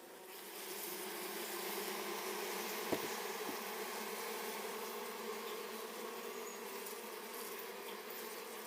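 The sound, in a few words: honeybees buzzing in an opened hive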